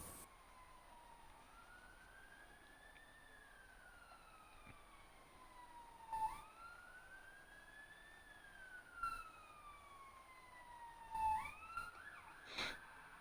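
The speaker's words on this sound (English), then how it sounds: "Oh, we've got some police sirens outside." Police sirens wail outside in repeated rising-and-falling sweeps, a faint, distant pair of cycles that rise over a low background hum, with a few brief louder bumps near the end.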